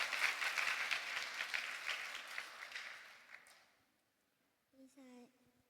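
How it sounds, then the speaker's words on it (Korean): Church congregation at a Sunday worship service applauding together, a dense burst of clapping that fades out over a few seconds before a single voice speaks briefly. "네, 박수 한번 주십시오."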